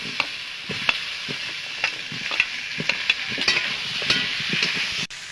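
Potatoes go into a pan of sizzling ginger, cumin and coriander spice paste for a Bengali mrigel fish curry, a steady frying hiss with scraping stir strokes and soft knocks, then a sharp clatter near the end.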